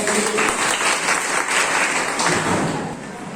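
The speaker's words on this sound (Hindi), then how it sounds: "बजाइए ताली" Village audience at a rural panchayat meeting about a groundwater scheme breaks into dense, loud applause, steady for about three seconds before tapering slightly at the end.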